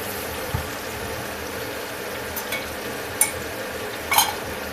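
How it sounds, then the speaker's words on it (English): Soft, steady sizzling of a whole snapper frying in hot oil, a low crackling bed with a few sharper pops and spatters near the end. "So that is frying, that oil is hot."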